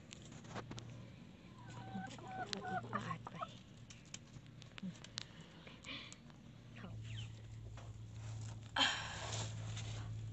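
Chickens cluck faintly in the open space under a raised stilt house, soft scattered calls with light rustling, while a person talks over them.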